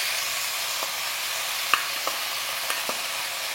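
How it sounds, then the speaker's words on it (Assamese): Potatoes and onions frying in a pan with ginger and spice paste, a steady close sizzle with a few light stirring clicks. "আলু আৰু পিঁয়াজটো বঢ়িয়াকৈ ফ্ৰাই হৈ গৈছে"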